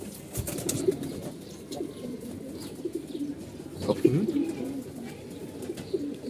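Pigeons coo in low, soft bursts near a backyard pigeon trap, with some faint chirps and noisy background rustle throughout.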